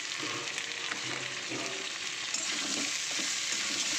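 Chicken stew being stirred in a pressure cooker, a steady sizzle with soft scraping and stirring sounds, continuous and close, with no talking.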